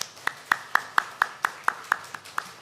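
A church congregation claps in welcome for a pastor who has moved to the area: about ten evenly spaced, crisp claps ring out in a steady rhythm, with no voices.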